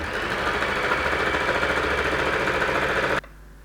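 A sewing machine stitches a straight hem on a ruffle top with a steady, close mechanical whir that cuts off sharply just before the end.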